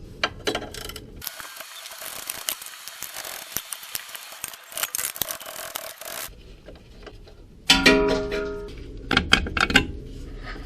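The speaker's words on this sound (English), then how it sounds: "Then we go down the line and unclamp it from the mounts. 3/4 for the bolt and nut." A hand ratchet wrench loosens the 3/4 bolt and nut on the rear axle mounts of a 1972 Monte Carlo, giving a steady stretch of close, loud clicking followed by shorter bursts of metal clanks and ratcheting.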